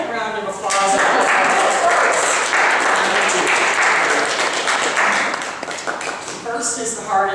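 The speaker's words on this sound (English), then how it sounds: "He deserves a second round of applause." A second round of audience applause at a coaching event, loud, full clapping that rises quickly and carries for several seconds, with someone speaking just before it and again as it fades.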